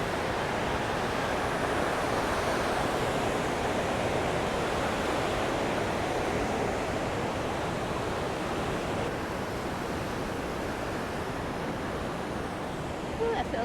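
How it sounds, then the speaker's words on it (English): Loud, constant rushing water roars without pause, a broad steady wash of sound like a large waterfall close by, at Hidden Falls on Cascade Creek in Grand Teton National Park. "while that was a grand waterfall"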